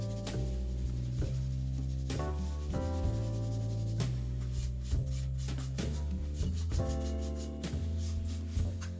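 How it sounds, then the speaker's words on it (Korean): Model kit parts are rough-sanded with 240-grit sandpaper in repeated close-up scratchy strokes, a steady rubbing rasp with light tapping accents and no voices. "가텐드 카미야스 240번으로 전체적으로 러프하게 샌딩을 해"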